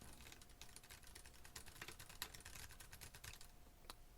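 Keystrokes on a computer keyboard, picked up through an Onikuma K5 gaming headset microphone: quiet, quick irregular clicks at a steady typing pace, no voice, over a faint constant hum.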